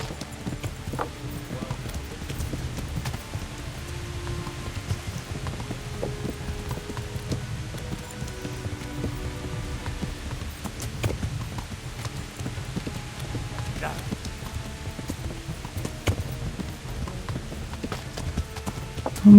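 Horse hooves gallop steadily in Kingdom Come: Deliverance, a continuous rapid clip-clop held at an even level over a soft rain-like wash for the whole stretch, with no talking.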